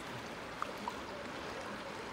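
River water flowing near Leavenworth makes a steady, soft rushing wash that stays faint and even throughout, with no voices and only a couple of tiny clicks.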